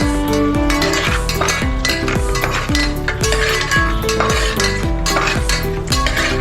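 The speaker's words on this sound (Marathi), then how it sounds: "खडा मसाला जो आता जस्ट पिसला गेला आहे फ्राय करून घ्यायचं मस्त तुपामध्ये" Whole spices (khada masala) frying in ghee, dominated by loud, rhythmic metallic clanks and scraping of a spoon stirring in a pot, with a faint sizzle underneath.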